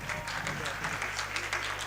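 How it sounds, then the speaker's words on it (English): Quiz event audience applauds the teams qualified for the finals, a steady roomful of clapping with a low hum of voices and hall noise underneath. "Guys, please give them a huge round of applause"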